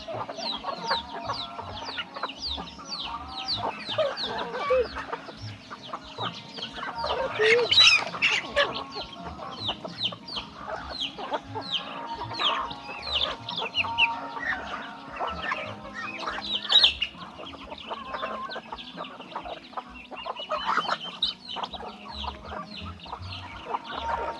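Chickens cluck and squawk continuously across a busy farmyard, with occasional louder calls standing out over a steady background of birds.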